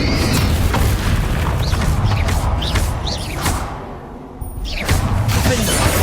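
In the video game Hogwarts Legacy, Bombarda spells go off as loud, close, booming blasts with shattering crackles and whooshes, mixed into continuous combat noise.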